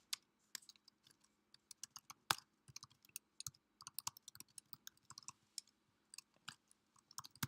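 Fingers type a script file name on a computer keyboard at a command prompt, a quiet run of irregular, crisp key clicks with short pauses between bursts, no voices.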